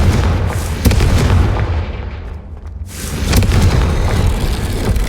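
A Confringo fire spell detonates in the Hogwarts Legacy video game, a loud booming blast with deep rumbling that dips briefly and then surges again into a second heavy rumble.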